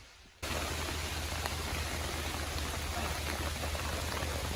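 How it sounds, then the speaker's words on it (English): Rain beginning to fall outdoors in the wilderness, a steady broadband hiss of drops that starts abruptly after a brief quiet moment and holds at an even, fairly loud level throughout. "So it's starting to rain"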